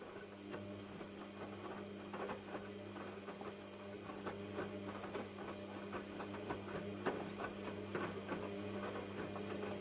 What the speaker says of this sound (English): The drum rotates back and forth, tumbling the clothes to agitate them and ensure the detergent penetrates all the fabric.